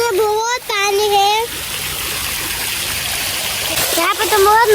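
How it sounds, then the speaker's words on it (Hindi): A water fountain splashes continuously in a steady rushing wash, fairly loud and close, while a voice speaks at the start and again near the end. "देखो यहाँ पे तो फवाड़ा है।"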